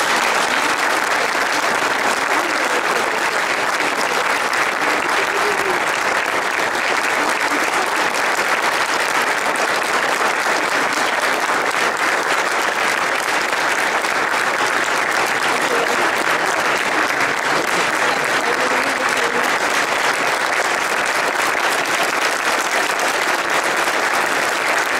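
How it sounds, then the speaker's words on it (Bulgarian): A crowd applauds steadily at a political youth anniversary gathering to welcome a party chairman, a dense, sustained roar of clapping lasting the whole stretch without a break. "нека да посрещнем с аплодисменти господин Лютви Местан, председател."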